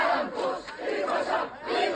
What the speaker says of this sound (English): The sound of crowds of protesters in Tehran on Tuesday.